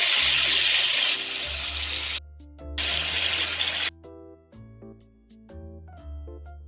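Yogurt-marinated chicken poured into a pan of fried onions, with bursts of loud hissing sizzle that cut off abruptly and return, broken by quieter clinks and gaps.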